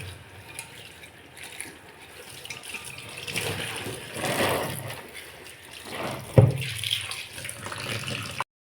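Water sloshes and splashes as a dyed shirt is dipped and rinsed in clean water, a steady soft swirl with a sharper splash near the end, no voices.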